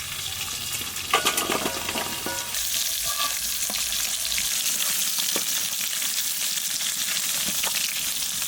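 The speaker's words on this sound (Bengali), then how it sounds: "মাছ ভাজা খেলেই বেগুন ভাজবো" Fish frying in hot oil, likely hilsa seasoned with salt and turmeric, gives a steady close sizzle throughout, with a few brief clatters of stirring or a utensil near the start.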